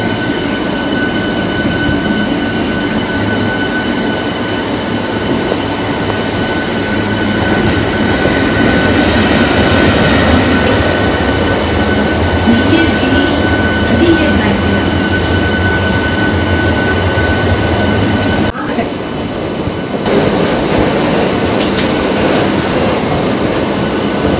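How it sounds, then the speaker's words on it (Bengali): A Howrah local train rolls into Belur Math station, a loud, continuous rumble of wheels and carriage noise with a faint steady whine, heard from on board, dipping briefly near the end before carrying on. "ফাইনালি বন্ধুরা আমাদের ট্রেন ঢুকতে চলেছে এখন বেলুড়মঠ স্টেশনে"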